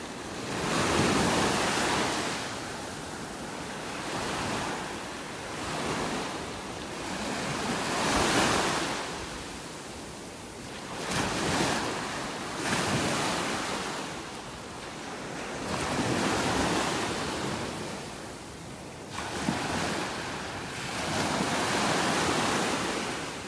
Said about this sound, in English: Listen to the sound of those waves.